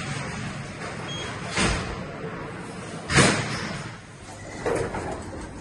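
Lift doors closing in a shopping centre, a single two-speed door set, heard as a few dull thuds and sliding sweeps spaced over several seconds against steady background hum.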